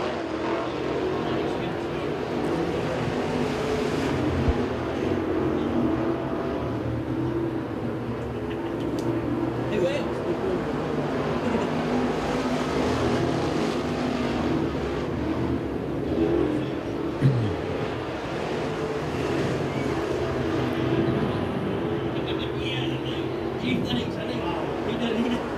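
NeSmith dirt late model race cars lapping Magnolia Motor Speedway on a Saturday afternoon, a steady roaring engine drone that holds throughout beneath continuous announcer commentary.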